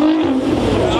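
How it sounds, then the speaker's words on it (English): A Ford Mustang engine revs in a short, loud, close burst with a strong steady growl, and a voice can be heard faintly underneath. "I'll probably give everybody a couple revs and maybe accelerate a little bit."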